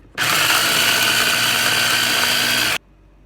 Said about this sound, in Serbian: na kraju sameljemo kikiriki u super secku